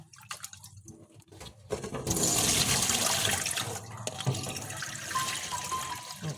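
Steady rushing water noise swells up and holds, a dense broadband wash like heavy rain pouring down, with faint drips and knocks underneath.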